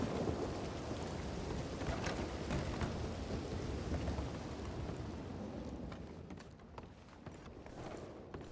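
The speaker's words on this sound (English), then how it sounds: "Might have just been a crack of thunder or something." Steady rain pours down in the RedM WildRP game, with a heavy low rumble of thunder in the first half. Scattered sharp drops and clatters stand out, and the storm eases slightly toward the end.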